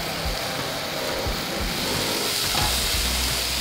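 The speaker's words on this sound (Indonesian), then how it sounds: "ini kita akan tumis sampai wangi, sampai minyaknya keluar lagi kayak gini" Ground spice paste sautés in oil until fragrant, making a loud, dense, continuous sizzle with a few soft stirring scrapes underneath, close to the pan and with no voices.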